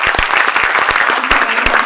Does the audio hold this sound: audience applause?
yes